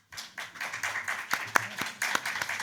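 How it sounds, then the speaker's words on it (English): A small audience at a conference session gives a brief round of clapping, a loose scatter of individual claps over a couple of seconds, fairly quiet and close, with no speech over it. "the first clap from the audience"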